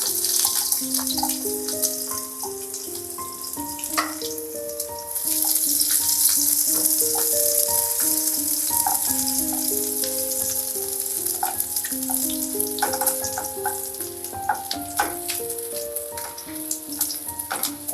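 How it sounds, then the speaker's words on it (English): Garlic and ginger, followed by green chilies, hit hot oil in a village chicken curry pan and sizzle loudly and steadily close by, the frying surging brighter partway through with occasional clinks of a utensil. "In goes my garlic and ginger."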